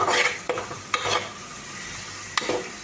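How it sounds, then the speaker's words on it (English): A spoon stirring burnt onions in a pot for khichdi, with scraping strokes and a few sharp clinks against the metal over a soft, steady sizzle. "and then you stir it, stir it around, so that, you know, the onions get mixed properly"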